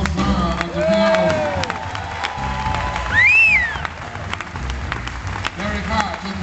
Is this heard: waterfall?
no